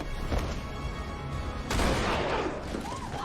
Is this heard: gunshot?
yes